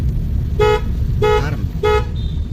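A car horn sounds three short toots at an even pace over a low engine rumble, close by and loud, during a driving lesson on the road.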